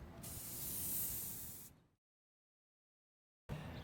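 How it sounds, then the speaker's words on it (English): A sustained hiss from an aerosol can spraying for nearly two seconds, then silence before a short burst of sound returns. "Spray away all your teenagers' issues."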